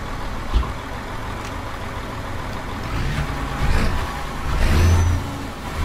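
A truck engine from American Truck Simulator, heard with the cab windows down: a steady mid-pitched engine drone that swells as it revs up and then eases off, with no talking.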